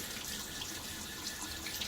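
Tap water runs steadily into a sink while shaving lather is worked up with a duck-fat-based soap, a continuous close hiss with no talking.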